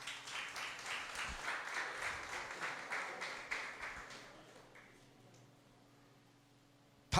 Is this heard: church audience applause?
yes